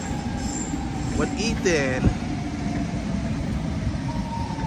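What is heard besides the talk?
Union Pacific freight train passing Richmond Amtrak station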